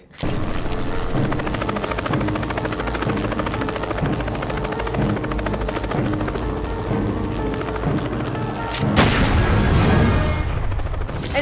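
A helicopter's rotor roars loudly and steadily throughout, with heavy, dense rumbling that swells near the end.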